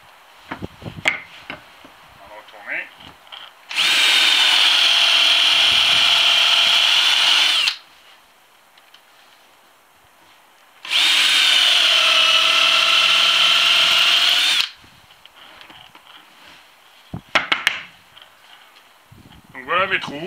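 A power drill fitted with a countersink bit bores holes in wooden blocks for mounting a gutter. It makes two loud, sustained whirring runs of several seconds each, separated by quieter handling clatter.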